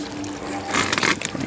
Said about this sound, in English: the water just drains into the mash tun over from this hot liquor tank right there